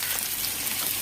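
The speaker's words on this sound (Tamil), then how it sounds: "இந்த மாதிரி எண்ணெயில் போட்டு நல்லா வதக்கி" Onions fry in hot oil with a dense, even sizzle and crackle, heard up close and steady throughout.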